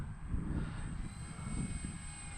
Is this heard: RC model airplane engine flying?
yes